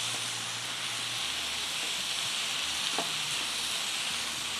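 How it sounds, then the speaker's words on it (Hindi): Potato slices frying in a pan of oil, a steady, close, continuous sizzle and hiss with faint stirring, no talk. "आलू के स्लाइसेस फ्राई हो रहे हैं।"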